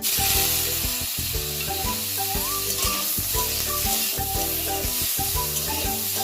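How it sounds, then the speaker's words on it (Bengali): Boiled hog plums fry in oil spiced with a bay leaf, giving a steady close hiss of sizzling that runs the whole way under a loud tonal musical background, with no talking. "মশলাটা আমার ভাজা হয়ে গেছে, এর মধ্যে দেব সিদ্ধ করে রাখা আমড়াটা।"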